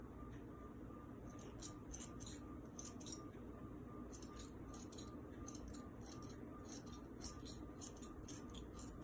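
Scissors snipping through fabric for a crop top's front bodice, a faint steady series of quick crisp cuts in short runs over a constant background hum.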